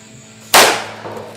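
Compact pistol firing jacketed hollow point rounds: a single loud, sharp shot cracks out and its echo decays over about a second, with no talking.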